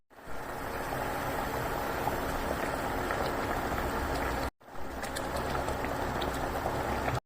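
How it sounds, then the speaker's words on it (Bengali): Fish curry gravy boils vigorously in a pan, a steady, close bubbling and hissing roar that drops out briefly for a moment before resuming. "ঝোলটা খুব ভালোভাবে ফুটে উঠেছে"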